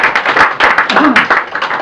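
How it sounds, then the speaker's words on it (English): An audience at a theatrical evening of comic songs and monologues breaks into brief, close applause, with a voice briefly mixed in. "Give yourselves a round of applause."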